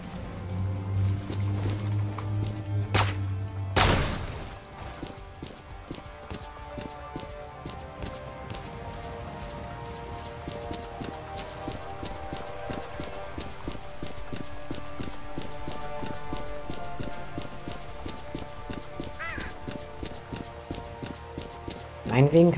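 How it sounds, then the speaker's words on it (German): Steady rain falls across the landscape in S.T.A.L.K.E.R. Clear Sky, a continuous pattering hiss with sharp clicks and a loud thud early on, while someone talks over it throughout. "Meinetwegen kann der Regen langsam aufhören."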